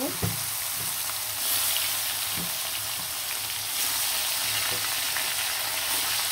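Chicken pieces fry in hot oil in a pan, giving a continuous close sizzle with occasional crackles and spatter, with no talking over it.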